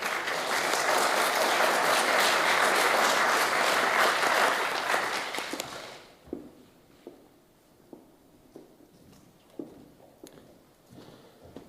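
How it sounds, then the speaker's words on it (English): An audience applauds speakers being welcomed onto the stage at a startup showcase, with dense, loud clapping for about six seconds that cuts off abruptly, followed by scattered thumps and footsteps. "We can give them a little clap."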